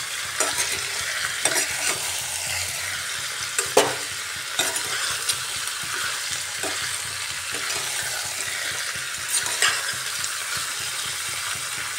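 Potatoes, onion and chicken frying in a pan while being stirred, with a constant close sizzle and repeated scraping strokes of a spatula, no voices.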